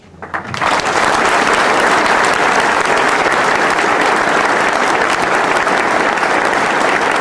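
Large crowd applauding at a university graduation ceremony, starting abruptly and swelling into loud, sustained, dense clapping that holds steady throughout.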